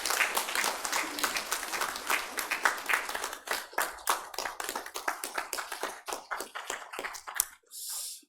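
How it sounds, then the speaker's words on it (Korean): Church congregation at a Sunday worship service clapping in blessing, a run of distinct claps that thins into fewer, sparser claps before a brief pause and a final soft sound. "뜨겁게 박수로 축복하겠습니다."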